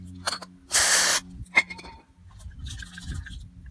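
Car cleaner sprayed from an aerosol can down into the gas tank of a 1995 Rally push mower: one loud half-second hiss, with a couple of short clicks and faint handling noise around it.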